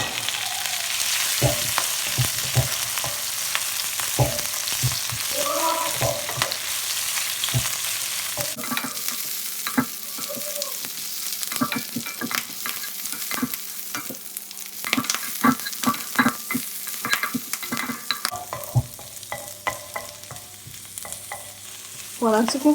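Bok choy and spinach leaves stir-frying in a pan, a steady close sizzle broken by frequent scraping and clattering strokes of a utensil against the metal, with no talking.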